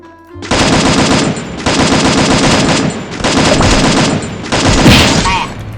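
Bursts of rapid automatic gunfire from a battle royale shooter game come in four long, loud volleys with short gaps between them.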